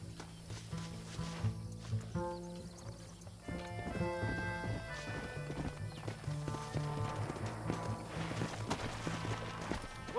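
Hooves clip-clop in a quick galloping rhythm over a busy musical score in Red Dead Redemption, with a horse whinnying amid the steady pounding.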